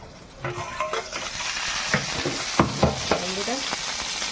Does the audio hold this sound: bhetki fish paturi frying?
yes